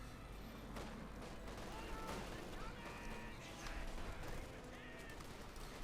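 Machine gun fire in Company of Heroes 2, rapid bursts of gunshots mixed with heavier artillery-like blasts in a dense, continuous battle din, faint overall with a commentator talking throughout.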